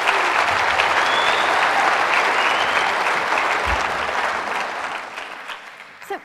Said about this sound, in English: I can give him a round of applause for that.